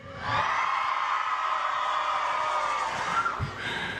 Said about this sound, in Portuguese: Quem é do time de Lula, dá um gritão aí.